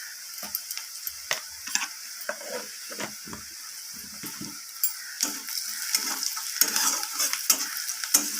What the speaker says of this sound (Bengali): হলুদ গুঁড়োটা দেওয়ার পর আমি নাড়াচাড়া করে নেব